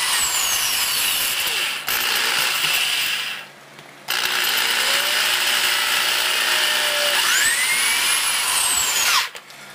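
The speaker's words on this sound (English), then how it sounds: "I'm just going to drill a few holes through here" A power drill whines steadily and loudly as it bores holes through a knife bow-drill handhold, pausing briefly twice before running on, with a squealing pitch that rises and falls.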